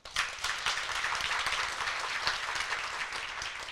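Audience clapping at a symposium, a dense steady round of applause from a roomful of people lasting a few seconds, with no talking over it.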